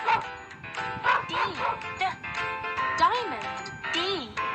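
Cartoon dog barking in a kids' language learning app game, repeated playful barks and yips mixed with a voice speaking.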